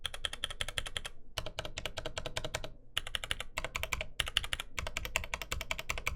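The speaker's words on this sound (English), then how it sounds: "I'll have a sound test right here of not only those stabilizers and those keys, but also comparing them to the general other keys on the keyboard" Close, steady typing on a Ducky mechanical keyboard with Sakura keycaps, rapid crisp clacks of keys and stabilizers in several bursts separated by short pauses, with no talking.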